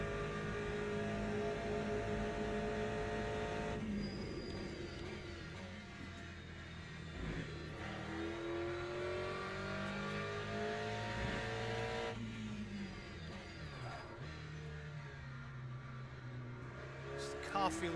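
A race car engine in Le Mans Ultimate, a racing video game, revs and accelerates through repeated upshifts and gear changes, loud and continuous with a steady drone beneath it, while someone talks over it.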